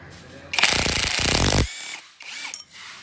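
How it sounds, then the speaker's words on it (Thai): An impact wrench hammers at a tight pulley nut on the power steering pump of a Honda Civic FD 1.8, giving one loud, close burst of about a second, followed by quieter mechanical clatter and handling noise. "ที่เห็นในคลิปเมื่อกี้ว่าผม ใช้บล็อกกระแทกขัน"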